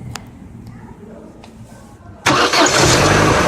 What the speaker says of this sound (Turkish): Şimdi arabaya ilk marşı veriyoruz.